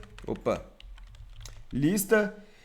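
Typing on a computer keyboard, a few quiet clicks under someone speaking, with his voice dominating most of the clip.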